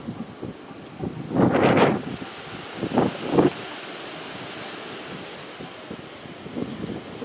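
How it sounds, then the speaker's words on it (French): Strong wind buffeting the microphone outdoors: a constant windy rush broken by several heavy, rumbling gusts, alone with no voices. "Donc on a beaucoup de vent, comme vous pouvez le constater encore une fois de plus sur mes vidéos."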